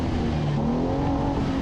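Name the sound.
race car engine free revving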